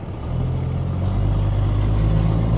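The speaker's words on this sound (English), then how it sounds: "So again, the engine sounds pretty good." A steady, deep engine rumble from a 1986 Mercedes W460 Geländewagen that builds slightly as it drives on in top gear, loud and close, with a low droning hum throughout.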